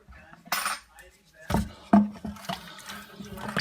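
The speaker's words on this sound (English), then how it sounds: "I'll give this a quick mix up." A spoon clinks and scrapes while mixing elderberry wine must with added ingredients in a fermenting bucket, several separate knocks and stirring swishes at close range, with no talking.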